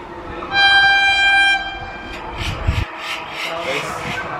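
The Sabari Express, an Indian Railways train hauled by a Vijayawada-shed WAP-4 electric locomotive, sounds a loud, chord-like horn blast for about a second, then passes with a rhythmic rumble and clatter of wheels on track, close by.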